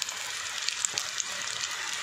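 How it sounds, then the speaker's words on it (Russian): Salmon bellies and rib pieces fry in a pan with a soft, steady sizzling hiss, dotted with a few faint crackles and pops; no one speaks. "И вот так они жарятся."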